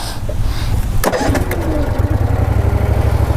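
An OREC RMK160 23 HP riding lawn mower engine cranks briefly, catches and settles into a loud, steady low idle, heard up close outdoors.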